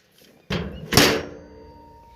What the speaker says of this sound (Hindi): तो दरवाज़ा दे देते हैं